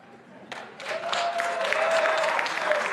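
A television debate studio audience breaks into applause, starting with a few claps and swelling into steady, full clapping that keeps going to the end.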